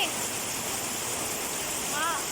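Very heavy rain lashes down with strong wind, a dense, constant roaring hiss with a couple of faint whistling gusts near the end.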